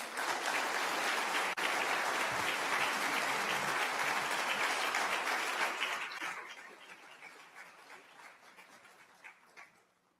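Audience at an international human rights summit opening session breaks into loud, sustained applause that fades out over the final seconds.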